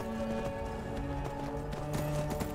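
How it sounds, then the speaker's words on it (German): Galloping horse hooves in Skyrim, The Elder Scrolls V, a steady run of clip-clop beats with game music tones underneath, no speech. "Und jetzt wird ordentlich geritten."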